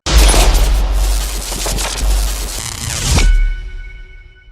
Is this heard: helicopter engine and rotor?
no